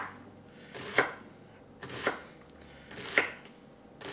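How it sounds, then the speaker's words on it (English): Onions diced with a knife on a cutting board, three separate crisp chopping strokes about a second apart, close and clear with no talking. "and then when you dice,"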